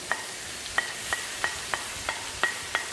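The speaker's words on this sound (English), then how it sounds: "We're gonna cook the onions" Onions cooking in rendered guanciale fat, stirred in the pan at a steady pace with a clack roughly every third of a second over a soft, continuous sizzle; close and fairly quiet, with no talking.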